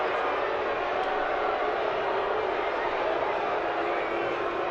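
Steady roar of a soccer stadium crowd reacting to a two-handed shove foul during Louisville City FC against El Paso Locomotive FC, a broad unbroken wash of noise that holds the same level throughout.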